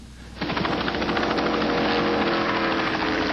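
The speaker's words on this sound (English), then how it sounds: "The medical helicopter was stationed only seconds away." A steady, loud medical helicopter drone starts abruptly and continues with rapid rhythmic rotor chopping, close by and unbroken.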